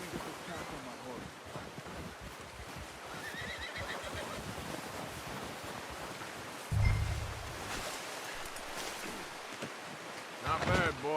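A horse neighs in Red Dead Redemption 2 as a pack is loaded onto it, with a louder burst near the middle and a short whinny near the end, over steady wind and ambient game noise.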